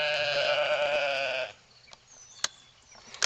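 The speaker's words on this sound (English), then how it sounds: "Hey, I got some sheep right here helping me." Nearby sheep give one loud, drawn-out bleat lasting over a second, followed by a few sharp clicks and knocks in a quieter outdoor setting.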